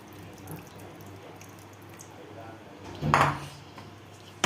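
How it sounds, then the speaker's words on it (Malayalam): Tamarind water splashes briefly into a pot of sambar after a quiet stretch, with a faint clink of cookware around it. "ആ പുളിവെള്ളം അതിനകത്തോട്ട് ഇങ്ങനെ ഒഴിക്കണം"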